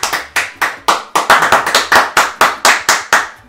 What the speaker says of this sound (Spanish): Milady Rebollido, un aplauso.